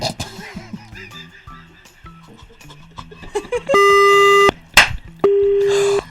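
A telephone busy tone follows a hung-up prank call: after a stretch of quieter mixed sounds, a steady loud electronic tone plays in two long bursts separated by a short sharp noise, with no talking over it.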